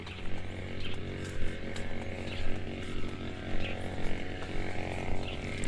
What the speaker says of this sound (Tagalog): Nag-grass cutter na si Double Lights